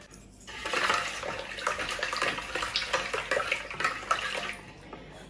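Oil poured into a baking mixture for moist cakes, a soft continuous liquid trickle and splash lasting several seconds with a faint clink at the start, quiet and close, no talking.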